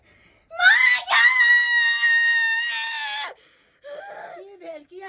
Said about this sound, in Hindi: की भेल, किया चिल्लाइ छी?